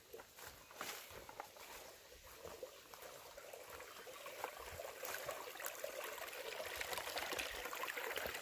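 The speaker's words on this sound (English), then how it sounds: "This is exactly where y'all will get your water from, right here in this little creek." A small creek at FDR State Park, Georgia, near Sparks Creek campsite, trickles and babbles steadily nearby, a soft, bright wash of water with faint crunching steps mixed in.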